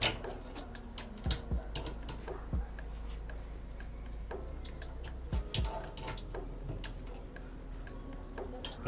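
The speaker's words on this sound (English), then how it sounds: "I'm gonna give them a final torque." A torque wrench clicks as it tightens the rear brake bolts on an Audi A6 C5. Sharp, isolated clicks come in a few close pairs over a quiet background, with small metallic ticks in between.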